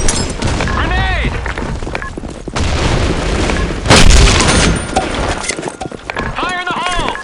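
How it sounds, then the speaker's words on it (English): Grenades explode loudly with deep booms in the online shooter Black Shot, mixed with gunfire and in-game voice callouts. "Fire in the hole! Grenade!"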